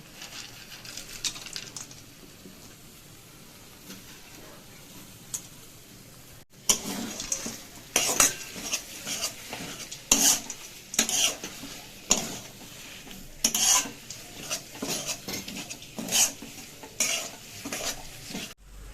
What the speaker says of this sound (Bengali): সবকিছু দিয়ে আমরা ভালো করে নাড়িয়ে নিচ্ছি।